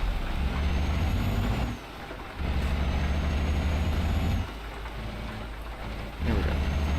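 Heavy truck in a driving video game with its engine brake cycling: a loud, low exhaust drone that drops away briefly twice and then returns, accompanied by a steady road hiss and no voices.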